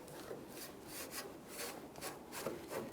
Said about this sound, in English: Now with a rag, I'm going to wipe away any dirt.